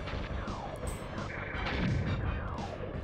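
Rapid automatic weapon fire in a video game, triggered by the auto-fire function of a Funlabs Firefly controller on Nintendo Switch, a dense continuous rumble of shots with booming low impacts lasting throughout.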